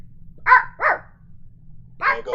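The robot dog Goddard from the Jimmy Neutron cartoon theme barks three times, with two quick close barks followed by a third after a short pause, all crisp and near against a faint low hum.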